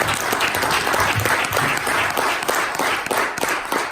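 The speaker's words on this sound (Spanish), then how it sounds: "Le doy un fuerte aplauso al Señor." Loud, dense applause from a church congregation, sustained clapping throughout with slight swells, fairly close.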